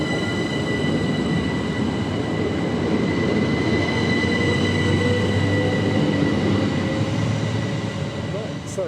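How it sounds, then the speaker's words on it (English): A train departs a station, rumbling steadily close by, with wheels grinding and faint squeals on the rails, continuous throughout with no talk. "there goes the train"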